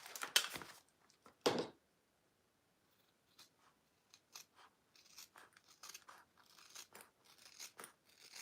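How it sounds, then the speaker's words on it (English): Scissors snip through fabric during sewing, two sharp cuts up front followed after a pause by a run of quieter, irregular snips and rustles, close and otherwise quiet. "And then I'm gonna trim that down again."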